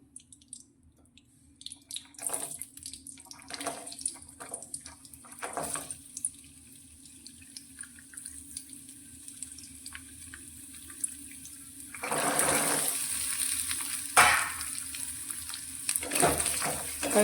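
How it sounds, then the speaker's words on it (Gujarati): Raw coconut pieces fry in hot ghee over a medium gas flame, a close sizzle with scattered crackles and pops that grows denser and louder in the later part. "તો આપણું ઘી ગરમ થઈ જાય એટલે આપણે આ ટુકડા તેની અંદર એડ કરી દઈએ"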